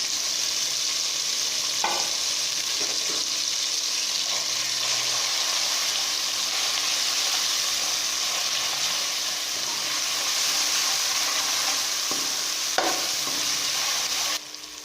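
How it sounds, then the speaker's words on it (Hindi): Chopped tomatoes fry with chili in a pan for a spiced goat brain (maghaz masala) dish, giving a steady, close sizzle broken by occasional scraping and clinking stirs, with no voices. "टमाटर फ्राई हो चुके हैं। अब हम इसमें मिर्च डालेंगे और साथ ही नमक ऐड करेंगे।"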